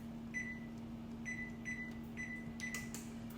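Short electronic beeps from an oven control panel as the cook time is keyed in, four or five crisp tones spaced irregularly over a steady low hum, close by.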